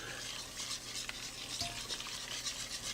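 Sauce being stirred in a hot pan, a quiet close scraping and swishing repeated over a faint sizzle, with no voices.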